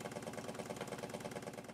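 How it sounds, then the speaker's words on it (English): Model steam boat engine running down slowly on low boiler pressure, a soft rapid mechanical chuffing and knocking in an even rhythm, faint and close with no voices. "It's starting to run down now, the engine's getting a lot slower"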